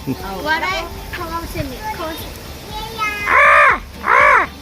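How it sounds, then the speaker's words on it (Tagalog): Two loud, harsh crow caws near the end, following a stretch of high-pitched chirping or child-like voices, at an animal park in Nagoya, Japan, with caged birds. "Isa lang alam kong boses sa uwak lang."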